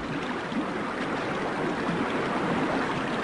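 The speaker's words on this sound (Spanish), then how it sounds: "el nacimiento del río es un manantial pequeño y rápido" A small, fast-flowing spring stream at a river's highland source gives off a steady, dense rush of water that holds constant throughout, with no voices.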